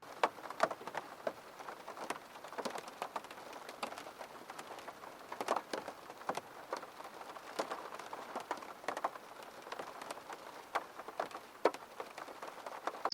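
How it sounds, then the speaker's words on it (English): Steady rain on an early cold spring morning falls and patters on surfaces nearby, with scattered louder drops ticking irregularly throughout. "Can you hear the rain?"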